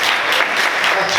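A church congregation applauds Jesus loudly, dense sustained clapping from a large crowd filling the space without a break.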